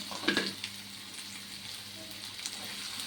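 Carrot pieces and green peas fry quietly in a pan, a low steady sizzle with a brief clatter as they go in at the start.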